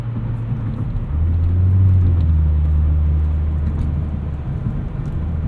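A 1996 Volvo 850 R with IPD sway bars driving in cold weather, heard from inside the cabin in binaural sound: a steady low engine and road drone that swells briefly as the car pulls, with no talk.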